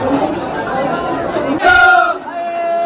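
Devotees at a temple queue during the Ekvira Aai palkhi festival form a dense crowd with overlapping chatter close by. One voice rises loudly partway through, then the murmur continues.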